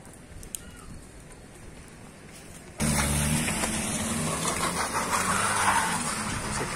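A car engine labors on a steep street in Siloé during heavy rain, the motor roar and downpour swelling abruptly midway after quieter steady rain, loud and close, continuing to the end.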